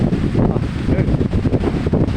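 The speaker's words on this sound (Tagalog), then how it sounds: "lumihip-hip na yung hangin" Strong typhoon wind gusts roar steadily in Rizal, a loud, continuous broadband rush with fluctuating buffeting and no voices.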